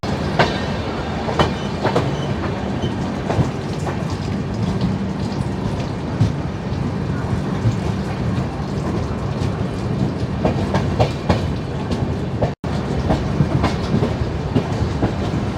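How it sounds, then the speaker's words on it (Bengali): A Vande Bharat Express train departs a station at dawn, rolling past close by, wheels beating a rhythmic clickety-clack on the rails under a constant rumble. "ভুবনেশ্বর থেকে তো ট্রেন ছেড়ে চলে যাচ্ছে"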